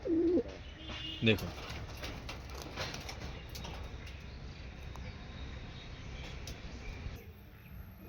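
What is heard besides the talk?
cooing of Star Kalanka male pigeon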